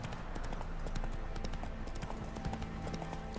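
Steady clip-clop of horse hooves at a trotting rhythm while riding in The Witcher 3, continuous and fairly faint, with no voices.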